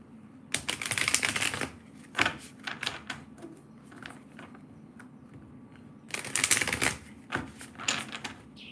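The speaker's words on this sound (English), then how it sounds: "I just need to shuffle my cards." Tarot and oracle cards being shuffled by hand, two bursts of crisp riffling and slapping separated by a quieter stretch of soft handling and taps, close and fairly faint.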